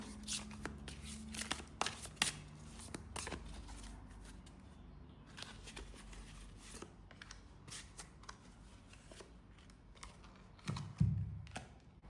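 Tarot cards are shuffled and drawn close up, giving quiet, irregular papery flicks, riffles and taps with brief pauses between handlings.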